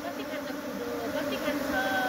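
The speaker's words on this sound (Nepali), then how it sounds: "मौरी आयो।" A swarm of honeybees drones in a steady, continuous buzz that hangs close by and holds an even loudness throughout, with a faint voice-like murmur underneath.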